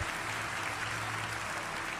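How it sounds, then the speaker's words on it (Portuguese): A church congregation applauds together during an evangelical service, a steady broad wash of clapping that fills the space evenly from start to finish with no voices rising above it. "Os que podem tomar o seu assento aplaudindo a Jesus, porque Ele é bom, porque Ele é maravilhoso."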